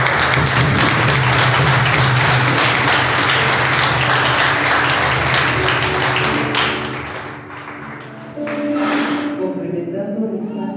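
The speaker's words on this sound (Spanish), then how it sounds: "Puede dar un fuerte aplauso a su persona." A church congregation gives a loud round of applause, dense clapping for several seconds that thins out, followed by scattered claps and murmuring voices.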